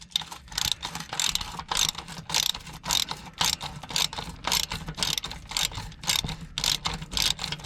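A ratchet wrench with a deep well socket clicks steadily on a bolt in quick, close, repeated bursts, heard alone.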